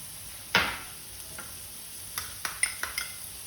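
Onions sautéing with salt in a pan for Mumbai vada pav, a sharp scrape of stirring followed by several light clinks and soft sizzling, close and fairly quiet, with no speech.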